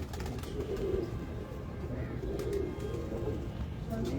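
Teddy pigeons coo in a dense, continuous low burble among a crowded loft, steady and close, with faint voices now and then in the background.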